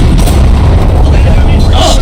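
A heavy tank cannon boom in the video game War Thunder rings out amid loud rumbling noise, with a sharp burst near the end.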